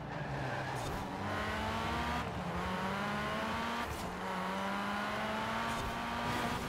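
A Ford Focus race car in Forza Horizon 4 road racing holds a steady, loud engine drone, its pitch climbing through gears with brief shift dips, under continuous tire and road noise.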